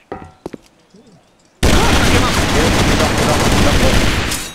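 Gunfire in an online team shooter: a few isolated sharp knocks and clicks, then a sudden loud, dense, sustained barrage of automatic fire with blasts that roars on for about three seconds before easing slightly.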